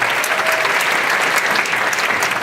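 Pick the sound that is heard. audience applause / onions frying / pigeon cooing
audience applause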